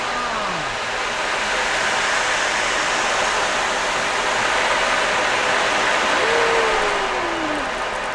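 An ocean drum rolled steadily to mimic rain, giving a dense, continuous watery hiss like a loud rainstorm or waves washing ashore, sustained throughout with a couple of faint gliding tones over it.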